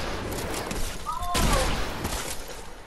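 Shotgun blasts and gunfire in the video game Fortnite, a dense burst of loud shots over continuous battle noise, with a player talking at moments.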